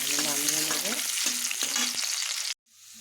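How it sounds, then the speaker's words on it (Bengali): Chopped onion fries in a pan for a Bengali thali, a loud steady sizzle broken by a few stirring scrapes before it cuts off abruptly near the end. "আর এই যে পেঁয়াজ কুচি রেখেছিলাম, ভালো করে ভেজে আমি নামিয়ে নেব।"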